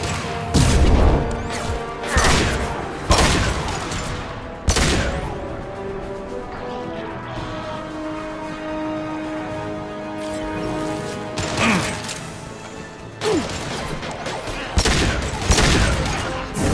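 Gunfire in the video game Mass Effect 2: loud, sharp shots and crashing impacts come in bursts over a sustained droning musical score, with short gaps between volleys.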